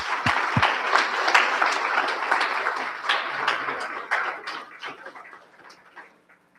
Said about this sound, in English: a fabulous round of applause.